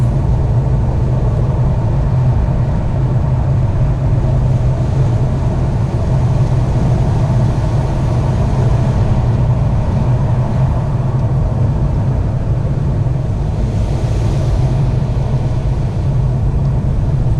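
A 2018 Ford EcoSport Titanium engine heard from inside while driving in normal mode, a steady low rumble with road noise, constant and moderately loud with no talking.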